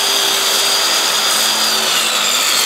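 A circular saw whines continuously at a high pitch as it cuts through a Q-Board panel, loud and close, with no pauses or voices.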